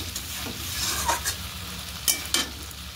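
Masala for egg curry sizzles in hot oil while a spoon stirs it, soft continuous frying with a few sharper scraping strokes against the pan.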